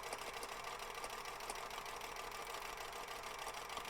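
A sewing machine runs steadily through a long seam on a large quilt block, a fast even needle chatter with a motor hum underneath and no pauses.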